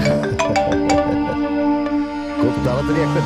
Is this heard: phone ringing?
yes